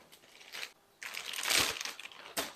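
A plastic bag crinkles and crunches in irregular bursts as minced meat is pressed and spread thinly inside it, close up with short pauses between the handling noises.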